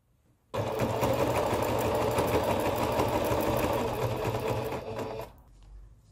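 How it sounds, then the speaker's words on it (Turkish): A sewing machine stitches a stroller cover in one steady, loud run of fast mechanical whirring and clatter lasting about five seconds, then stops, heard up close with no voices. "şuradaki yerlerimizi güzelce makinamızla dikiyoruz"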